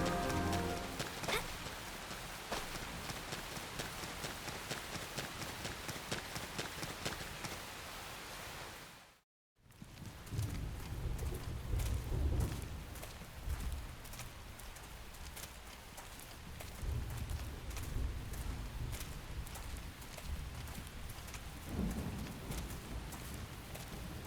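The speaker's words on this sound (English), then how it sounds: "The rain's starting to let up, just in time for sunrise." Rain in the video game Xenoblade Chronicles X hisses steadily as a continuous wash of drops, broken by one short silent gap, with faint pattering textures underneath.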